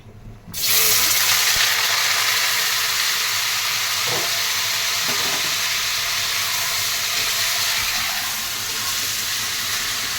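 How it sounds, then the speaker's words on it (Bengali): Potatoes dropped into hot oil set off a sudden loud hiss that settles into a steady, dense sizzle lasting several seconds, close by and with nobody talking. "আর এই যে আলু ভাজবো। তেল গরম হয়ে গেছে।"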